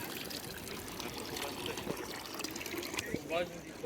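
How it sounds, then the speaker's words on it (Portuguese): Holy water runs from a fountain at the Vatican in a steady, soft trickle and splash, with faint background voices in the open air. "Estou vindo aqui pegar uma água benta agora."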